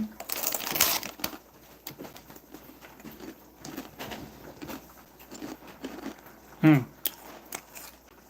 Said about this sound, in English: I'm just munching on chips, so apologies for the unsavory sound.